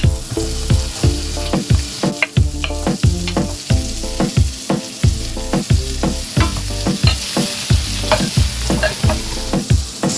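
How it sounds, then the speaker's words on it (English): Aromatics sauteing in an Instant Pot while Caribbean-style short ribs are made, a steady sizzle with rhythmic stirring taps running under louder background music. "Let's go saute the aromats. I'm going to saute these for about 3 to 4 minutes."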